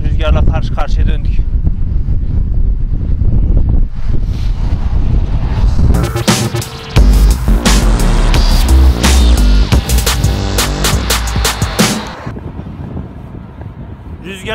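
Strong wind buffeting the microphone while riding, a loud, continuous rumbling roar with gusty surges, heaviest in the middle stretch, mixed with talking.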